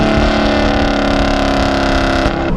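A Chevrolet Camaro SS with an X-pipe exhaust roars loudly and steadily up close, its engine note holding a thick, sustained drone before easing slightly near the end.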